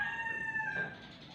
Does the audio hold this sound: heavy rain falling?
no